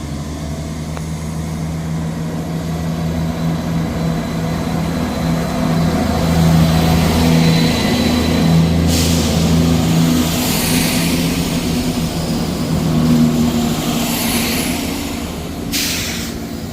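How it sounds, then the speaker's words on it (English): A ScotRail passenger train pulls out of Inverkeithing station for Dundee, its engine drone building into a loud, sustained rumble with steady tonal hum and rolling rail noise, ending in a couple of sharp hiss bursts. "Departing out now is the 11:20 Scotrail service from Edinburgh Waverley to Dundee"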